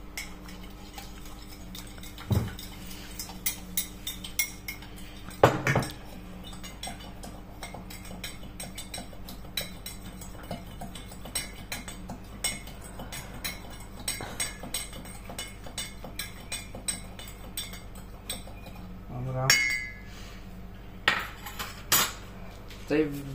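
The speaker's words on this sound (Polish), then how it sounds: "Teraz trzeba to wymieszać." A utensil scrapes and clinks around a metal pot, stirring a cookie mixture with butter steadily with occasional louder knocks, while a person speaks now and then.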